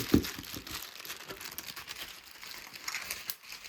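Packaging on a gift box lid is opened by hand, with soft, quiet crinkling and rustling of wrapping material in short bursts, close up.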